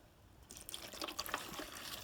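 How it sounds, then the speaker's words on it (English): Water is poured carefully into a Transcool 12 volt evaporative cooler, a soft splashing trickle that starts after a brief quiet moment and continues faintly with small drips. "we're going to add some water, and we're going to do it carefully"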